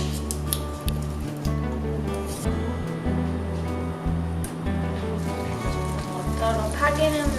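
Butter melting in a pan before chopped scallions go in for a Shin Ramyun fried rice, a steady close sizzle that runs on without break, with no talk over it.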